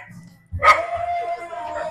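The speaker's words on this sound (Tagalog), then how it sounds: "yung mga aso dito, mga dogs" Several dogs nearby: one yelps once sharply, then a drawn-out whining bark follows, with faint voices murmuring in the background.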